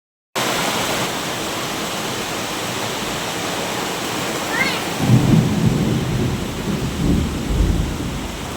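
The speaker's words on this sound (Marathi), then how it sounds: "बघा वीज किती पडते" Heavy rain roars steadily while deep thunder rumbles build and roll through the second half, with lightning striking during a power cut.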